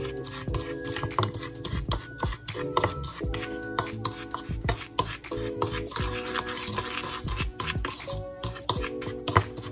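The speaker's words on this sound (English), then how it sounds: "You're gonna stir all of this up." A spoon stirring seasoning mix with smoked paprika in a bowl, steady scraping and clinking strokes, close and moderately quiet, with background music playing underneath.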